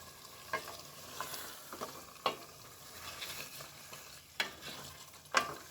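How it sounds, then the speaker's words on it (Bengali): Layer chicken pieces stirred with spices in a hot pan, a soft continuous sizzle broken by several sharp spoon scrapes and knocks at uneven intervals, nearby and fairly quiet, with nobody speaking. "মাংসটা মশলার সাথে ভালোভাবে মিশিয়ে নিয়েছি"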